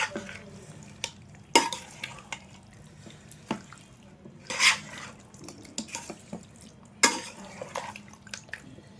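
Biryani ingredients stirred and mixed by hand in a pot, giving scattered soft scraping and wet clinks, with a few louder utensil strikes among quieter stretches.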